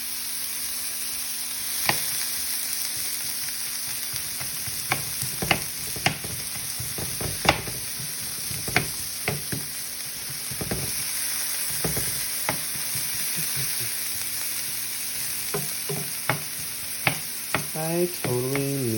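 Cranberries and Brussels sprouts sizzle steadily in a hot pan, with a string of sharp stirring clicks and scrapes scattered throughout and a quick clattering burst near the end, with no talking.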